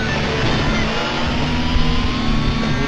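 A loud, rough video game monster truck engine roars continuously, with a gritty, low-quality digital tone and no pauses.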